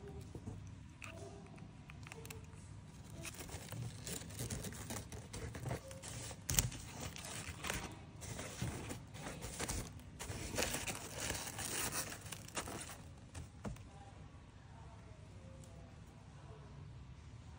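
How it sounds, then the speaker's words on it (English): Crepe paper crinkles, rustles and tears while it is wrapped over cardboard for a Christmas tree piñata, producing quiet, irregular close-up crackles and rips with small taps and a few sharper bursts. "Cover the cardboard with crepe paper too."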